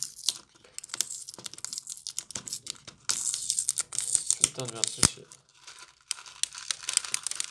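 Crinkling and ripping of adhesive tape being torn off comes in scattered bursts up close, while a man mutters and swears over it.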